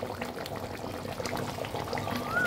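Water is poured into a pan of simmering egg and potato curry, a soft, continuous bubbling splash at low volume with no talking.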